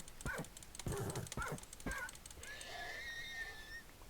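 A horse in the Minecraft video game is struck repeatedly, giving several short pained whinnies and grunts in quick succession, then a longer high neigh trailing off, loud and close with no talking.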